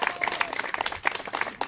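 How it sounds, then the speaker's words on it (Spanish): An audience applauds at an outdoor road inauguration ceremony in Guerrero, giving a steady patter of mixed claps that runs through the short moment with no voice on top. "director de Parques y Jardines, Joel Román, fuerte el aplauso por favor."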